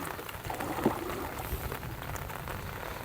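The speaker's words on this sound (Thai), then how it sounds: "ฝนก็ยังตกตลอดอยู่" Steady light rain patters on the Mekong River during a traditional fishing trip to check fish traps, a soft, continuous hiss with a faint bump or two.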